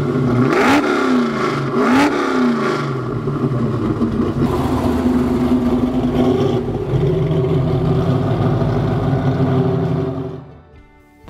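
A 1970 Buick GS455 with a 455 cubic inch V8 and 4-speed manual revs hard a few times, then settles into a loud, throaty, rumbling idle close by before cutting off.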